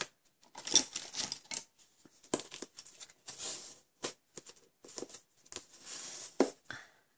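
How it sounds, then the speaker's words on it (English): Card stock, a basic card piece scored at the middle, folded over and rubbed along the crease, giving soft close scraping and rustling strokes with faint taps between them. "we're just going to fold that over and burnish our score line"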